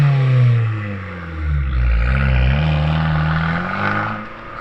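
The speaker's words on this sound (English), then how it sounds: "let's take it for a drive and see what that turbocharged engine can really do" A turbocharged 2020 Abarth 595 Competizione engine and exhaust rev loudly and close up while driving, the pitch climbing, dropping and rising again over several seconds, with no talking.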